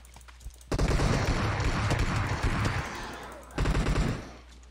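Sustained automatic gunfire from a game's zombie mode in PUBG Mobile, loud dense bursts running almost continuously with a brief lull before a second burst, no voices audible over it.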